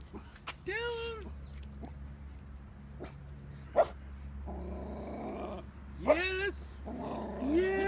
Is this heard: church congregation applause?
no